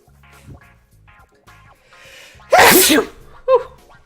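A single loud, explosive sneeze bursts out, followed by a short vocal yelp, over a quieter muffled background with brief sounds.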